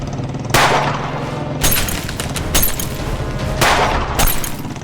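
Gunfire in a dramatic scene: a rapid series of loud, sharp cracking shots in several bursts, close and harsh over a busy background.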